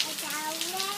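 August rain falling outdoors, a steady broadband hiss of drops under a voice that speaks, with a rising pitched tone running through.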